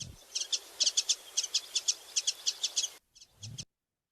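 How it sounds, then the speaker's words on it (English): A warbling white-eye gives its twitter call, a rapid run of high, thin chirps in quick pulses, fairly close against a faint insect hiss before it cuts out. "Warbling wide-eye Twitter call."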